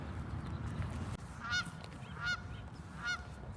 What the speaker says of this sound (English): Hello, geese.